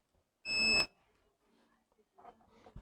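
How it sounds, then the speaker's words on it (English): Multimeter in continuity test mode, checking a Digmark DGM-651A multimedia speaker with no power: one loud steady electronic beep of about a third of a second, then quiet handling noise and faint background sounds. "I'll put my multimeter on the beeping mode and we'll start to check further."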